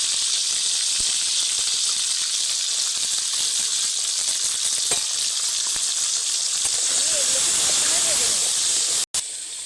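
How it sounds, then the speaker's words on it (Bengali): Crab legs fry in hot oil with salt and turmeric in a wok, giving off a loud, steady sizzle and hiss. Brief stirring sounds come near the end. "এগুলোকে ভালোভাবে ভেজে নেব।"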